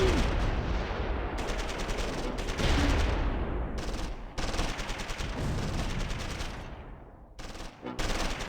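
German armour firing in Close Combat 3, the Russian Front strategy game: dense overlapping cannon and machine-gun bursts, loud and continuous with brief gaps and decaying echoes.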